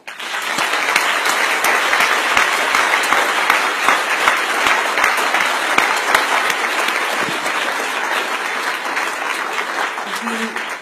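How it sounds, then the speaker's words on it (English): Guests at a US-ASEAN Business Council dinner give sustained applause, a loud, even wash of many clapping hands lasting around ten seconds before fading out. "Won't you please join me in applauding them all?"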